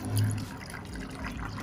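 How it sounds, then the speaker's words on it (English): Water poured over salted, roasted cashew nuts in a container for rinsing, a soft brief splash and trickle, close and moderately quiet. "I just added some water, rinse out this water."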